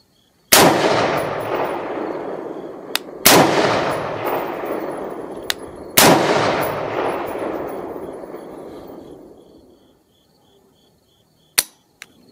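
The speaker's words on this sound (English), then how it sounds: "I just want to put some rounds through it." Three loud single rifle shots from an AR-15 fitted with a BCA billet upper on a shooting range, each crack trailing a long echoing decay, spaced a few seconds apart, then a sharp metallic click near the end.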